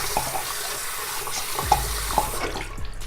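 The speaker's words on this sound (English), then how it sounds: "So you wash your hands" Running tap water pours over hands being washed at a sink, a steady close splashing stream with small irregular splatters throughout and no talking.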